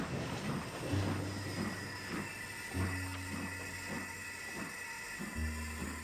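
A train in a PS1-era video game rolls along with a low rumble, regular clacking beats and a few long low horn-like tones, fairly faint.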